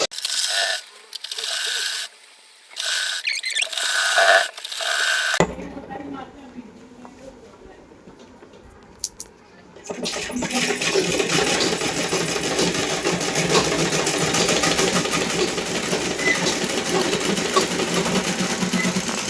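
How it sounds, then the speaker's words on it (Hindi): An electric sewing machine stitches a salwar seam, first in short bursts separated by pauses, then after a quiet stretch running as one long continuous whirring hum, fairly close. "अब हम पूरे में सिलाई चला देंगे"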